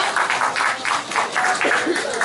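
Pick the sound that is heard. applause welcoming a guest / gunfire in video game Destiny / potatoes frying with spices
applause welcoming a guest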